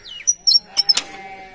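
Sheep in a pen at the Central Sheep and Wool Research Institute, Avikanagar, giving a few short, close bleats mixed with high, chirpy calls, with no talking.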